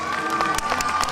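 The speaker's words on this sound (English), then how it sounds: "Simon, just give Melissa a great big round of applause." Audience applause and cheering from a crowd at a live game-show stage act, a dense wash of clapping with scattered shouts held steady through the whole short stretch.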